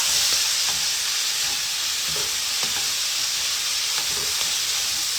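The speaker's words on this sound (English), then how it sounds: "Still cooking these veggies down." Vegetables cooking down in a pan give a constant bright sizzle and hiss, with faint stirring knocks now and then and no talk.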